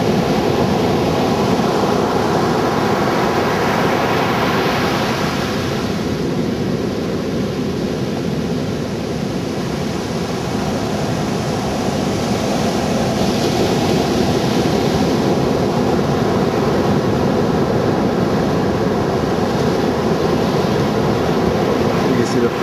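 Pacific Ocean surf near the Oxnard power plant washes in as a broad, steady roar, constant and fairly loud throughout, with someone talking over it.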